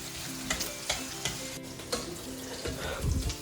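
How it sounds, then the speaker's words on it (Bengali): Garlic and onion frying in a pan for chilli con carne, a soft continuous sizzle broken by regular stirring scrapes and taps, quiet and close with no voices. "যতক্ষণ না আর কি একটু ট্রান্সলুসেন্ট হচ্ছে আর এটা একটু ফ্রাই হচ্ছে"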